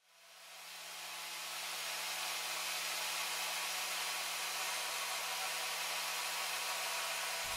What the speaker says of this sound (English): So I'm going to do this on the angle grinder.